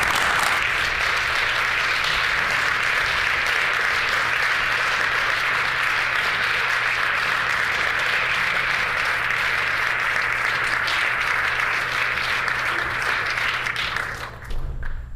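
Sustained applause fills a provincial legislative chamber, a dense, steady wash of many hands clapping for about fifteen seconds before tapering off abruptly at the end.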